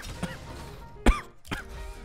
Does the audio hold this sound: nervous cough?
yes